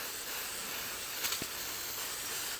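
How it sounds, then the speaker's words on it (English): Brake cleaner sprayed onto a new dry cylinder liner from a Massey Ferguson 65 tractor engine, a steady close aerosol hiss lasting throughout with no talking. "this is brake cleaner"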